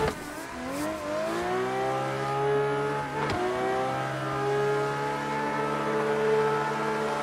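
Simulated car engine in Assetto Corsa drifting on a second-gear course, a steady loud rev held high with rising and falling pitch swings and a brief dip near the middle, running continuously throughout.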